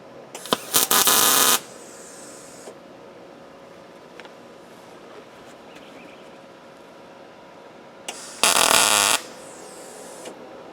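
Tack welds go down on a steel lawn trailer frame, two short, loud, harsh buzzing bursts of roughly a second each, separated by a long stretch of low background hum.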